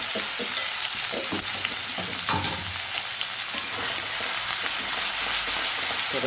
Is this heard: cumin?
yes